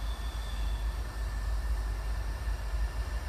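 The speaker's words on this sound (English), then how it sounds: "here comes a train through the woods." A train rolls through woods along an old railroad line, a steady low rumble with broadband wheel and rail noise holding constant throughout, fairly distant and continuous, with no talking.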